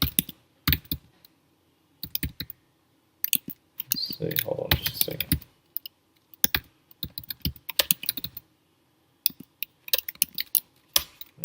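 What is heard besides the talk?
typing on a computer keyboard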